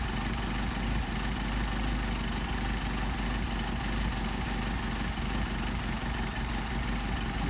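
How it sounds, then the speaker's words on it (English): A Mercedes 190SL engine with Solex carburetors runs loud and close in a steady, continuous drone with no voices. "You see we're losing our RPM. Now we come back out the other way. Picking up our RPM. Engine's running better."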